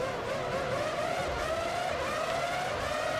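A Formula One race car in the PS2 game Formula One 03 at the Australia round drones steadily at high revs under hard braking, its engine note sliding slightly in pitch with a faint tyre-skid edge, loud and continuous throughout.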